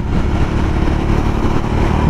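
A Bajaj Dominar 400 motorcycle engine roars loud and steady up close, building speed under hard throttle in a high gear with a constant rumbling drone.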